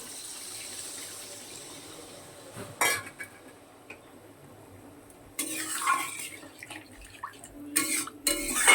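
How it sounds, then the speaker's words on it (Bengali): A small splash of water is poured into a pan of katla fish curry with poppy seed paste, heard as short watery bursts and clattering over a quiet kitchen background. "সামান্য একটু জল দেবো"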